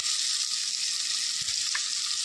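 Onions fry in a pan with rock salt, giving a loud, bright, steady sizzle that hisses unbroken from start to finish, with one brief stir scrape in the middle.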